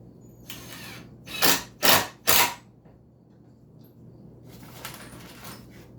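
Short reclaimed screws driven into a wooden workbench with a power tool: three quick whirring bursts close together near the start, then quiet, then a fainter, longer buzz near the end.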